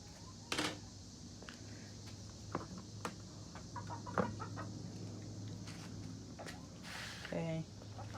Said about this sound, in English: Chickens are just making their noises.